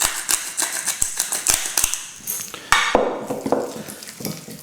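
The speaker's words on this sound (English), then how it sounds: "And also, some freshly ground black pepper." Fresh black pepper being ground by hand over a pasta filling: quick, close, crisp clicking cranks in an uneven run, followed by softer scraping as the filling is mixed.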